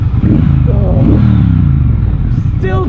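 A Triumph Bobber motorcycle engine rumbles steadily and loudly at a relaxed riding pace, a deep continuous throb with wind noise and someone talking over it.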